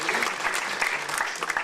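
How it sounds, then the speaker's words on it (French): Enthusiastic audience clapping at a poetry association gathering in Carnac, a dense, steady patter of many hands with faint voices mixed in. "Je vous demande de l'applaudir."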